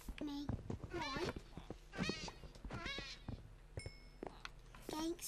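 Cat meows from the Minecraft video game, several high, bending cries repeated through the stretch alongside other game noises and children's voices.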